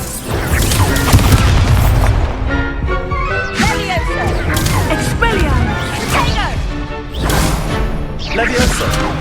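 Spell-casting combat in the Hogwarts Legacy video game, an Expelliarmus disarming spell among others: loud, repeated whooshing blasts and crashing impacts in quick succession, with no clear talking over the dense magical effects.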